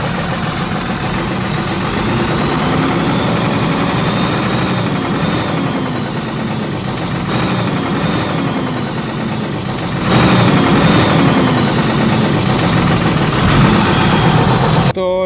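A diesel engine with a faulty crankshaft bearing and connecting rod runs steadily at idle with a continuous mechanical drone, growing noticeably louder partway through.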